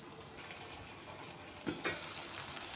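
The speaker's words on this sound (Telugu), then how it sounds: "ఆలుగడ్డలు అయితే కొంచెం ఫ్రై అవుతున్నాయి." Potatoes fry in a pan for a potato-tomato gravy curry, giving a steady close sizzle with a couple of brief stirring clatters near the end, heard alone with no talk.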